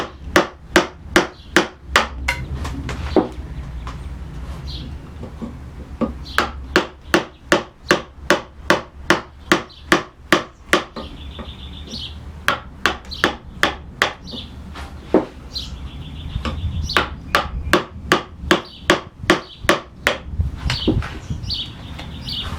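Repeated sharp chisel strikes chop into wood for casework joinery, coming in fast rhythmic bursts of close, loud knocks separated by short pauses.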